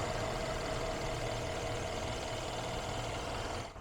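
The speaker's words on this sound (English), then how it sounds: "it's just idling very smoothly and happily." A 2018 Mercedes CLS 550 V8 engine idles steadily with a smooth, low rumble and constant hum, close by, with no other sounds.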